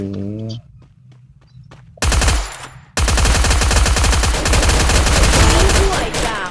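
Rapid automatic gunfire and explosive blasts from a Free Fire battle royale match, loud and dense bursts with a heavy impact near the start, continuous volleys filling most of the stretch.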